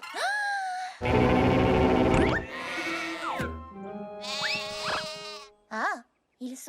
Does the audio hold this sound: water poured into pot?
no